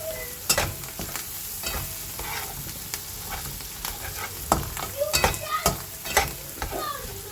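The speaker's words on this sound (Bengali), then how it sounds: "এটাকে ভাজা ভাজা করে নিচ্ছি পেঁয়াজ রসুন আর ডিমটা" Onion, garlic, turmeric and fish roe sizzle in hot oil in a pan, with a constant close crackle punctuated by sharp clicks and scrapes of a spatula stirring, busier toward the end, no talking.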